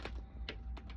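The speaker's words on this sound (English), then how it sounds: "I'm gonna shuffle them one more time." A deck of tarot cards is shuffled by hand, giving a few soft, close riffling and tapping bursts in a quiet room over about a second.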